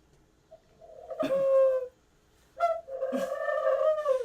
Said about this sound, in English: The doves are singing.